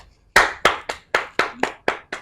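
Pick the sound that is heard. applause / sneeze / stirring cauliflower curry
applause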